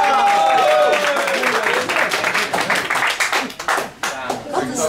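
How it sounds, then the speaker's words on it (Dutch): Audience clapping and applause at a poetry club evening in Rotterdam, a dense burst of many hands that thins out into scattered claps, with a voice speaking over it at the start. "Mag ik een applaus voor Claudia?"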